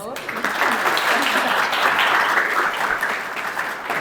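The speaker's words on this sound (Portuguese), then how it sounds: "eu venho aqui para que todos aplaudam e recebam a nossa deputada federal, Anne Ortiz." Audience applause welcoming a federal deputy as guest speaker at a business talk event, a steady, dense clapping crowd sustained throughout at close range.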